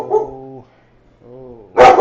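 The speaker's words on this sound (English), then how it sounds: "scary every time you bark. There's nothing to be barking about, doggy." A dog in a video game gives two drawn-out whining yelps separated by a short pause, then a sudden loud, harsh bark at the end.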